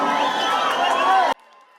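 A crowd of traders at a political market rally in Juja cheers and shouts loudly in one continuous roar that cuts off abruptly after about a second.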